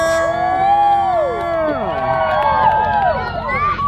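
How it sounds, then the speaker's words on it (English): A dense crowd cheers and whoops loudly, with overlapping high shouts and shrieks rising and falling across several seconds. "Crowd loving it."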